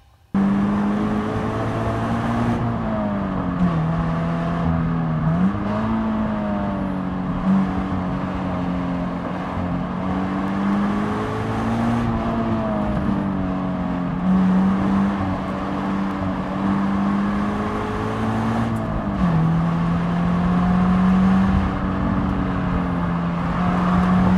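A Subaru BRZ sports car engine revs hard and climbs through the gears, a loud continuous roar rising in pitch with brief dips at each shift.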